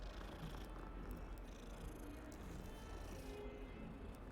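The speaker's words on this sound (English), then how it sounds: "It's a weird coloured cat." A cat in the video game Hogwarts Legacy purrs steadily, a continuous low rumbling texture that stays close and even throughout, with no speech over it.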